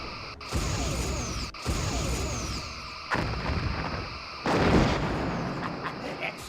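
Starship torpedo fire in Star Trek Bridge Commander: several booming shots with sweeping tails, the loudest near the end, over a steady hum of ship background.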